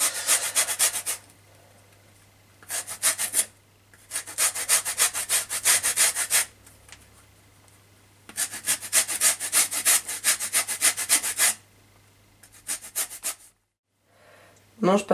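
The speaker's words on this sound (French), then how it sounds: "Je râpe que les parties qui sont jolies." Orange zest is grated on a metal grater in steady back-and-forth scraping bursts, close and crisp, with short pauses between passes and a faint voice at the end.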